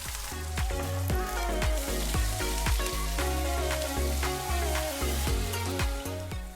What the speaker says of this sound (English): I'm going to golden brown the onions